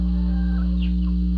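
Chickens on a farm giving a few short, soft clucks over a constant low mechanical hum, fairly quiet and close, with no voices.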